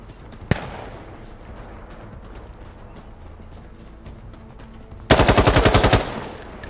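Gunfire in the tactical shooter Insurgency on narrow streets: a single sharp shot early, a stretch of quieter ambient rattles, then a loud rapid burst of automatic fire lasting about a second.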